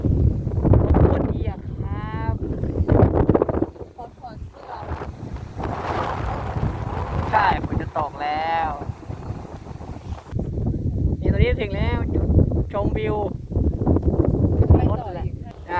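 Gusty wind buffets the microphone at a roadside mountain viewpoint on Doi Chang in Chiang Rai, a loud, rumbling roar that rises and falls while people chat nearby.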